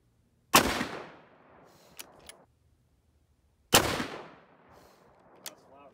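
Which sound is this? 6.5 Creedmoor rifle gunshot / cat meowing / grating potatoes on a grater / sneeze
6.5 Creedmoor rifle gunshot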